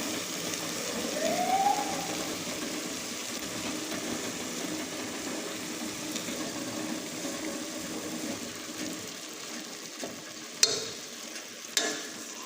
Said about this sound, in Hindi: इसे अच्छी तरह से हम मिक्स कर लेते हैं।